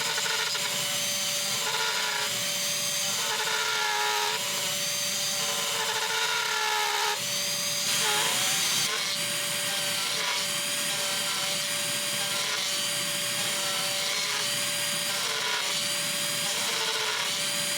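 A guitar body being routed out for a recessed Floyd Rose tremolo cavity, the router whining steadily with rough rasping wood cuts in repeated passes, loud and close with no talk.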